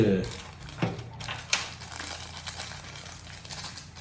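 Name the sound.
peeling a sticker off mic packaging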